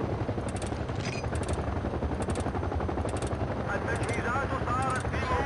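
A helicopter rotor in the video game Battlefield 2 throbs loud and continuous throughout, with bursts of gunfire mixed in under the chopping beat.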